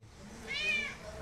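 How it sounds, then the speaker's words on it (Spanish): A house cat gives a single soft, drawn-out meow at close range, a brief rising and falling call over a quiet room. "Se te escuchó lo que dijiste, miau"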